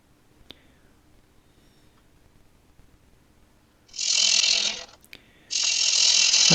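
Red magnolia wood on a lathe, taking a slow, easy turning cut, heard as two bursts of loud harsh scraping hiss, each about a second or more long, after a quiet start with a few faint clicks.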